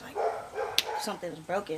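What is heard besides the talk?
neighbor's dog barking in background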